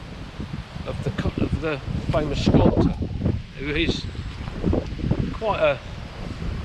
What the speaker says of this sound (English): the wind is getting up and it's quite chilly